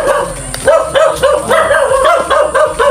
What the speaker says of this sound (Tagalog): Ay, maraming aso.